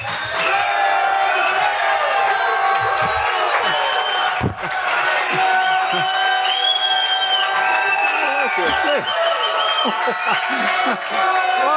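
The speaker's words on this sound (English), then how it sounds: "What a crowd." Large church congregation cheering and shouting together, a loud sustained roar of whoops and voices filling the hall, dipping briefly midway before swelling again.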